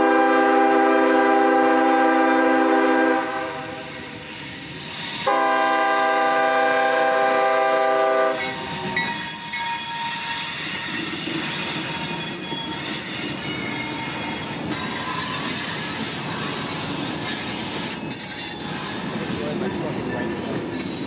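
A CSX freight train bends from the PD Sub onto the M&M Subdivision near Montgomery, its wheels squealing in long, loud, piercing tones, with a horn-like blast and heavy rolling rumble continuing as the cars pass.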